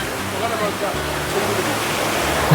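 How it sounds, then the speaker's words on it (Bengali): Water runs steadily down from the Shiva linga at Panchalingeswar temple in the Nilgiri hills of Odisha, a continuous rushing stream that stays constant and close. "শিবলিঙ্গের উপর থেকে যে জলের স্রোতটা আসছে"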